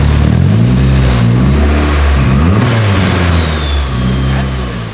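Freshly built engine with electronic throttle revving on its first start-up, loud and close, climbing and falling through several throttle blips over a steady running drone.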